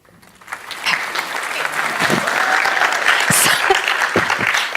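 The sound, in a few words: audience clapping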